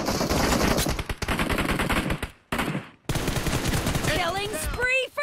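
Rapid automatic gunfire from an M416 rifle in a PUBG Mobile team deathmatch, loud dense bursts with brief pauses, followed by sharp whizzing and ricochet-like effects near the end.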